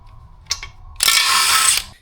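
A hand ratchet clicks on flex plate bolts of a Ford F-150 5.4L engine, a couple of short clicks followed by a quick, close burst of ratcheting.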